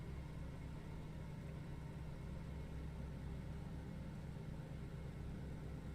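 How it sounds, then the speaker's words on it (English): A Junkers Ju 52/3m engine idles on the tarmac in a flight simulator, giving a steady, continuous low rumble with even loudness throughout and no talking over it. "Must have been sitting on the engine on the tarmac idling for a while."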